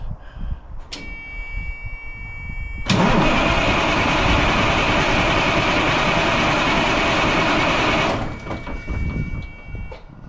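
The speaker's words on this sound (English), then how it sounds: "Push the starter button and see if the engine winds over." A Peterbilt truck's engine cranks on its starter, a loud steady whirring grind lasting about five seconds after a brief click, without catching, then stopping with outdoor background noise around it.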